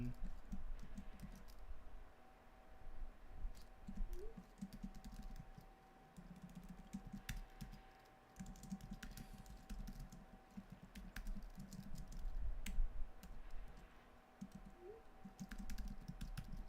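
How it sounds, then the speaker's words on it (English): Someone types on a computer keyboard, a steady scatter of soft close key clicks over a low background hum, with faint muffled sounds of a person in the room. "I'm typing, I'm texting on my computer"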